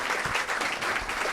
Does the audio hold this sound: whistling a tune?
no